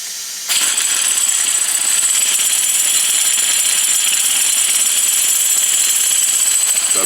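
A foundry match plate vibrator buzzes continuously after switching on, a loud steady high-pitched rattling hum that stays constant throughout with no talking.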